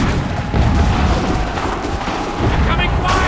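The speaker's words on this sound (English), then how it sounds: "Incoming fire!" An Assassin's Creed 3 battlefield crossing brings dense rumbling gunfire and artillery booms, layered with game noise and shouting voices.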